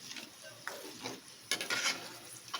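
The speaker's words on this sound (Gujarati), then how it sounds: "આ રીતે કિસમિસ તેલમાં નાખશું એટલે એકદમ ફૂલાઈ જશે." Raisins dropped into hot oil for a fried fasting snack sizzle in a steady, soft hiss, broken by a few sharp clinks and scrapes of a spoon stirring the pan.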